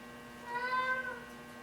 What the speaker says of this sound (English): The cat's howling again.